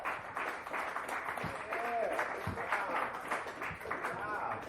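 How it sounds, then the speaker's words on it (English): Audience applause and cheering at a comedy show in a dive bar, the Lotus Lounge, after a comedian's set, a steady wash of clapping with crowd voices and whoops mixed in throughout. "Another round of applause for Paul"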